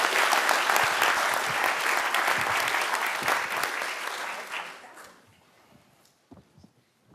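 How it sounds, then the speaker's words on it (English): Audience applause at a city commission meeting, honoring drummers and singers: steady, dense clapping from a sizable crowd that holds for about five seconds, then fades quickly into a near-quiet room with a few stray claps. "I'd like everybody to give the drummers and the singers one big round of applause again,"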